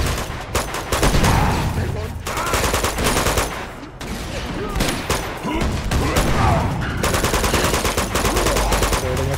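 Sustained automatic gunfire in the Uncharted 2: Among Thieves video game, dense rapid bursts filling the mix with little pause, loud and close, with faint speech mixed in.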